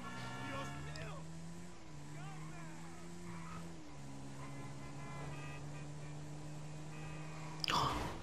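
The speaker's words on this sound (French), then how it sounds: "Si vous demandez pourquoi elle avance trop vite la moto, c'est normal parce que je l'ai modifié, je l'ai mis à le moteur à fond." Engine of a modified, fully tuned motorcycle in GTA V, a steady droning hum that shifts pitch a few times, running throughout with a brief loud burst near the end.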